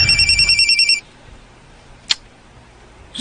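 Telephone ringing with an incoming call, a loud electronic trilling ring lasting about a second, then quiet with a couple of sharp clicks.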